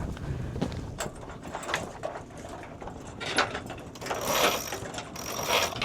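Sailboat winch ratcheting as the main sheet is tightened aboard, with clicking bursts and mechanical rattles in clusters over rushing wind and water noise, fairly close.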